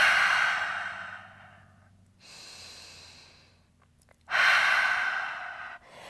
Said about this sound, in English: you breathe in and you can feel it hitting your thigh, and you breathe out